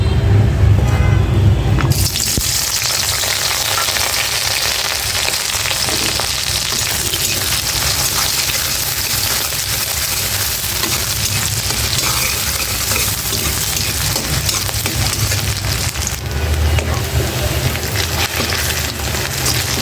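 Sliced onion fries in hot oil in a wok while preparing a bottle gourd and snakehead fish curry, giving a continuous close crackling sizzle with occasional stirring scrapes.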